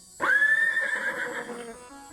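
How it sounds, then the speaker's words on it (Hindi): A horse whinnies once, loud and close, a high quavering neigh lasting about a second and a half before it fades, with nothing else around it. "घोड़ा क्या आवाज करता है?"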